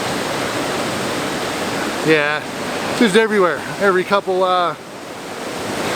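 The waterfall at Fossil Creek gives a constant broad rushing roar throughout, with someone talking over it in the middle.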